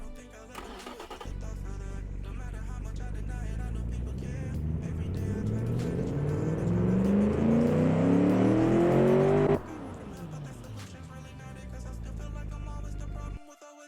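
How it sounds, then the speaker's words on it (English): A Tucker car engine runs and revs hard, rising to a loud sustained roar with climbing pitch, then dropping back to a steady idle before cutting off; close and dominant with no speech. "Also a real fucking powerful angry engine."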